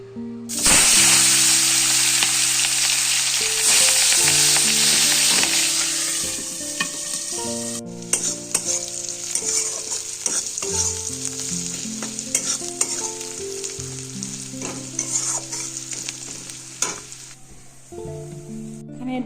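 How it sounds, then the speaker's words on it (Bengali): A fish head fries in a hot pan with loud, crackling sizzle at the start, settling into steady spattering pops and occasional utensil clinks over nearly twenty seconds. "মাথাটা তার আগে ভাজবো।"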